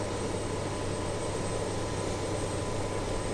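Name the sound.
BAe146 auxiliary power unit (APU) starting up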